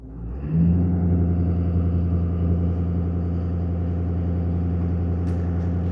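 Idling 6.7 litre diesel V8 in a 2012 Ford F-250 Super Duty surges up on its own, settling into a steady, loud, close rumble with no driver input and no voices.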